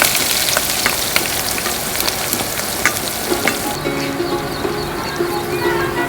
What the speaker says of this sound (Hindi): we'll stir it